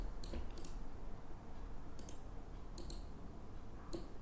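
Several sharp computer mouse clicks come in small bursts, close and fairly soft, over a steady low hum while someone works in Rhino 3D modelling software.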